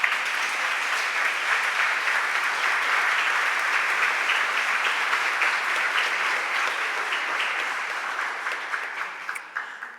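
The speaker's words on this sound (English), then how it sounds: "Let's give them a round of applause for joining us today." Audience applause for visiting high school students at a city council meeting in a large hall, steady, dense clapping sustained throughout and tapering slightly near the end, with no talk over it.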